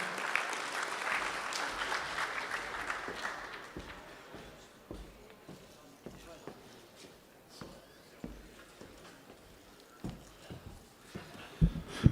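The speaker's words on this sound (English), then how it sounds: "let's give Tom a round of applause, too" Faint audience applause at an NSRA event fades out within a few seconds, leaving a quiet room with scattered taps, footsteps and occasional bumps.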